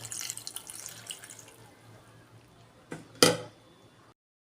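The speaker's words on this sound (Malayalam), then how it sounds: "നമുക്ക് കുറച്ച് വെള്ളം ഒഴിക്കണം കേട്ടോ അത് വേകാനായിട്ട്" Water poured into a pot of spinach on the stove, a broad splashing rush that fades, followed by a couple of sharp splashes near the end.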